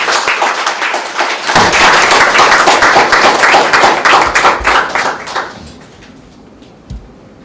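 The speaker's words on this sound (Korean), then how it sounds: "큰 박수로 강연을 시작하도록 하겠습니다." An indoor lecture audience breaks into applause to open a media art talk, a loud dense burst of clapping that swells quickly, holds for several seconds, then thins to a few scattered claps and a thump.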